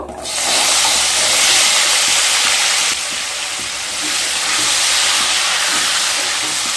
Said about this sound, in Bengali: এবার পেঁপেগুলোকেও ভেজে নেব।